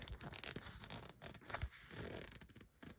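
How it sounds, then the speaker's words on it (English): Zipper pull slid along the zipper of an in-the-hoop machine-embroidered zipper bag, giving a few short scratchy rasps and scrapes up close, fairly quiet, with no talking. "Move your zipper"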